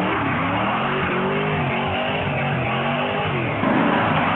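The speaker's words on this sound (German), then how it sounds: "Oh, das ist ein Motor hier." A car engine idling and droning steadily at close range, a low rough hum that holds constant with a slight lift near the end.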